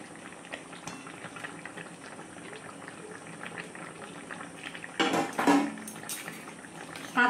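Hilsa fish slid into a pot of simmering fulori and potatoes, a steady soft bubbling that bursts into louder splashing and sizzling near the end.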